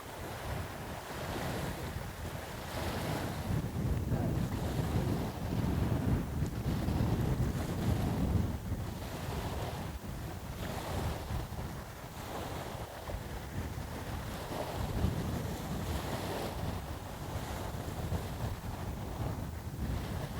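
Wind buffets the microphone at the shore alongside rolling surf, a steady broadband roar with gusting swells over twenty seconds, fairly faint overall, no voices.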